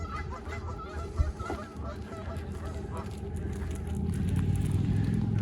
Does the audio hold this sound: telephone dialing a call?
no